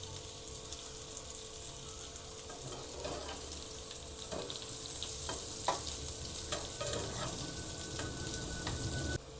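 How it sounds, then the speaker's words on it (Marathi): Stuffed okra (bharli bhendi) fries in a covered pan with a steady, even sizzle, while a spatula scrapes and clinks intermittently as the pieces are turned over. "आपण हे आता पलटी करून घेऊया सगळी भेंडी।"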